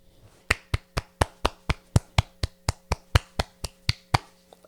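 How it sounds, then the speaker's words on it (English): Hands clapping about sixteen times in a steady, even rhythm, close and crisp, with no voices between the claps. "I'm fucking clapping for you because you deserve to be clapped for."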